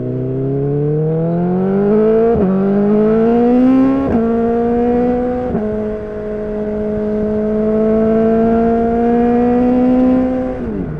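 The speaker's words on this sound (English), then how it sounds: "I can clearly hear the exhaust, and it does sound fit." A BMW S1000XR motorcycle with Black Widow decat exhaust headers revs loudly and close, its engine note rising through several quick gear changes before settling into a steady, droning cruise.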